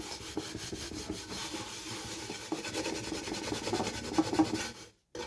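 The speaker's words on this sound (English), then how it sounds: "I'm trying to still use it to try and scrub, but I don't think it works on this pot." A pot is scrubbed by hand with a cleaning tool, a steady close rasping and rubbing that runs without pause for several seconds before stopping abruptly.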